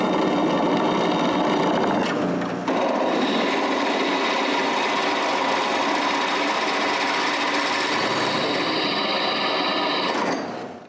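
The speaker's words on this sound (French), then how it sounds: "Je perce 2 assez gros trous pour les têtes de boulons." A power drill bores two large holes for bolt heads in a motor mount support during a CNC machine modification, a loud, steady mechanical whine running continuously, with a brief drop near the start before it resumes and cuts off at the end.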